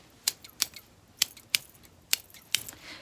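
Sharp, crisp snips from a pair of big scissors, about seven cuts at an uneven pace, close and fairly quiet.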